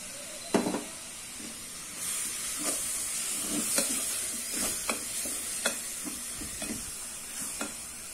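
Ground tomato paste sizzles and hisses in a hot pan of rice upma, with a steady frying crackle and repeated scraping stirs at an uneven rhythm, heard close and without talk.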